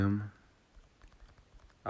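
Soft, scattered keyboard clicks from typing into a search field, faint and irregular, framed by a man's speech at the start and end of the stretch.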